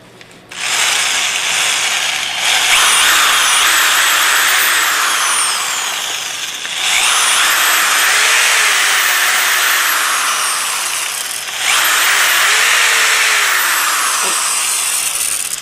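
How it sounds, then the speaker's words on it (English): A power drill whines steadily in three long bursts with short pauses between, its pitch shifting as the bit grinds out a metal battery cable connector, loud and close. "we need to drill out the diameter on this connector a little bit more"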